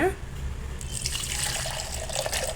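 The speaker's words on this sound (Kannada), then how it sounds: "ಅದೇ ನೀರೇ ಸ್ವಲ್ಪ ಇಟ್ಕೊಂಡಿದ್ದೀನಿ ಹಾಕೋಣ ಈಗ" Horse gram cooking water is poured into a pot for bassaru, a close, steady splashing stream of liquid.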